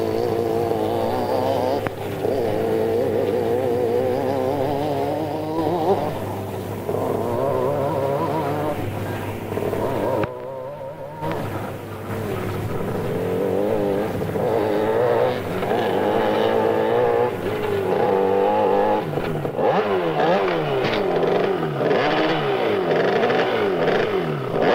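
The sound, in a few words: schoolboy scrambling motorcycles racing in practice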